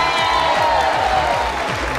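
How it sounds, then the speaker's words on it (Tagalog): Studio audience applause and cheering on a Filipino daytime talk show, a loud, dense, continuous wash of clapping and shouts filling the whole stretch without pause. "Isang bonggang palapakan at sigawan!"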